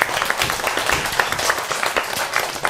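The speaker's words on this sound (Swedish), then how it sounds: "applåd!" Loud, close applause from a studio audience in a Swedish TV show, dense rapid clapping without pause through the whole stretch.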